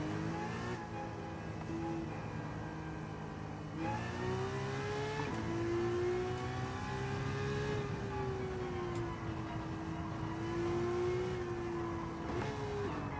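A race car engine in the Gran Turismo 7 racing game revs loudly and steadily, its pitch rising and falling as it climbs through the gears and settles into a sustained high drone, with no talk over it.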